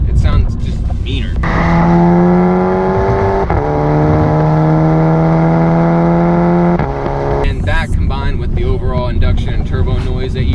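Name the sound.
VW Golf MK6 GTI Stage 3 induction and turbo noise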